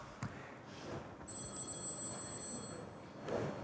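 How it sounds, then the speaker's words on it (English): A telephone rings with a trilling electronic tone in a quiet room, one sustained ring, with faint background noise around it. "Does anyone hear ringing?"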